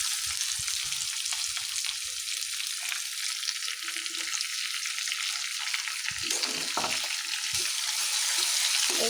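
Chopped onion frying in a pan in a village kitchen gives a steady, close crackling sizzle that runs the whole time, with faint stirring knocks near the end.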